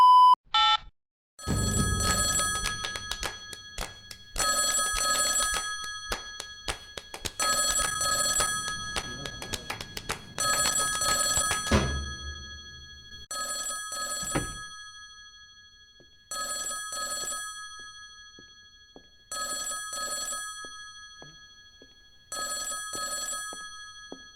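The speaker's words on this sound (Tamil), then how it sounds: "கால் வருதுடா." A phone rings with an incoming call, repeated bursts of a bright electronic ringtone in a regular pattern, louder at first then softer, with no talking over it.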